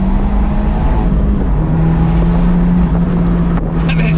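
Abarth 124 Spider sports car engine heard from inside the cabin during a third-to-second heel-and-toe downshift, a steady loud drone under wind and road roar, with no talking.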